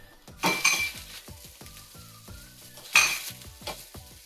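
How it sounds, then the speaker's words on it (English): Halved sausages sizzle as they brown in a frying pan, with two louder bursts of hissing as they are stirred, along with scattered scraping and clinks of a utensil. "now I'm going to be adding in my sausages that I've halved, and just make sure that these get a really good brown"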